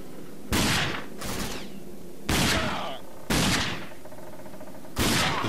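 Bursts of automatic gunfire from a video game gun, four or five loud sharp volleys with short gaps, close and alone without talk.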